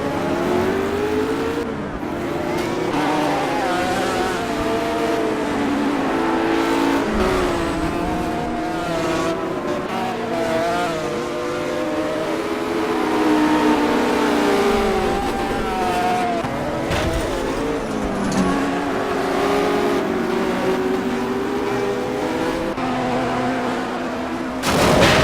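A pack of race cars launches at the start of a race at the Nürburgring Nordschleife in the Project CARS video game, engines roaring and revving loudly and continuously, with shifting pitches and throttle blips for about twenty-five seconds.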